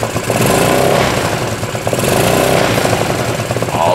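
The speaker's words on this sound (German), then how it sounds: "Ich gebe jetzt auch mal Gas." A scooter engine with an open air filter and an untuned carburetor revs loudly and steadily up close, with a rough, buzzing mid-range drone that barely drops in level for four seconds.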